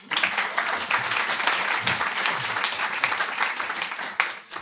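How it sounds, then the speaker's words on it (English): A room of guests at the Pavilion Club claps to welcome entrepreneur James Averdieck, a brief burst of steady clapping, fairly close and moderately loud, with no talk over it. "please give it a round of applause for James Averdieck"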